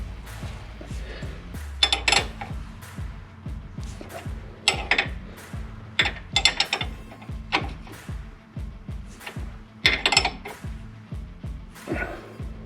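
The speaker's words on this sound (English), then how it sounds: "take the wrench and adjust it until I can fit the cotter pin" A wrench works the nut on a Jeep XJ track bar to line up a cotter pin, giving a quiet, steady run of rapid ratcheting clicks broken by a few sharper metallic clinks.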